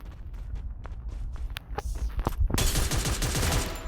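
Gunfire in the mobile shooter Free Fire: a few scattered single shots, then a loud, sustained burst of rapid automatic fire in the second half over steady game background noise.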